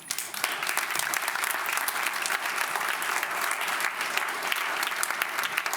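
Sustained applause from a conference audience at a health care policy event, steady and full throughout with many hands clapping at close range.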